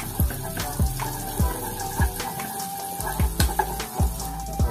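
Onions frying in a pan for a Filipino eggplant omelette with ground meat, a steady sizzle broken by repeated dull knocks of utensil against pan, close and moderately loud with no talk.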